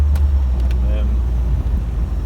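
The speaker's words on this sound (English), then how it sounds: "You can hear it going over the bumps then, no suspension noise." A 1990 Corvette C4 rolls over road bumps, heard from inside as a steady low road and engine rumble with a couple of faint thumps and no knocking, while traffic passes nearby.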